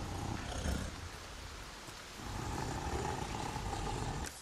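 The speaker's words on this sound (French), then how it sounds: "Il pleut." Steady rainfall in the video game Resident Evil 4 Remake hisses evenly, a soft wash of drops with a faint low rumble underneath and no voices.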